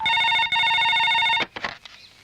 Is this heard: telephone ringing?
yes